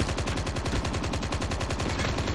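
Rapid automatic M4 rifle fire in the mobile shooter Call of Duty Mobile, a steady stream of loud, evenly spaced shots running unbroken for the whole stretch with no talking.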